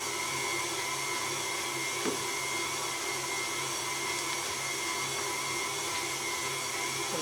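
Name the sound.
KitchenAid mixer mincing beef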